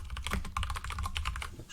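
Rapid, irregular clicking of fingers typing on a computer keyboard, close and fairly quiet, with no voices.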